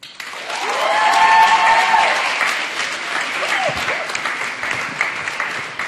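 At an Africa Awareness Week closing ceremony, an audience applauds after a spoken word piece; clapping swells in over the first second, stays full, then eases, with cheering or a raised voice rising through it.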